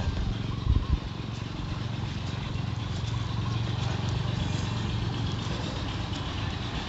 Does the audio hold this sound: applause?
no